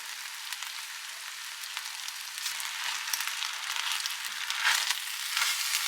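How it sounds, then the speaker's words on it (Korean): Rice and mushrooms stir-fry in perilla oil, seasoned with soy sauce, as part of a steak pot-rice dish. A steady, close sizzle hisses throughout, building slightly toward the end, with no talking. "쌀이랑 버섯이랑 같이 볶아주세요."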